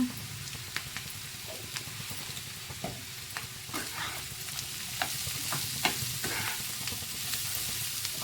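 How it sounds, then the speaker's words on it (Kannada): Chopped radish fries in a pan for an Andhra-style chutney, a steady sizzle broken by repeated spoon scrapes and stirring clicks, growing a little louder toward the end, with no talking. "ಒಂದು ಹತ್ತು ನಿಮಿಷ ಫ್ರೈ ಮಾಡ್ಕೊಳ್ಬೇಕಾಗುತ್ತೆ ಇದನ್ನು"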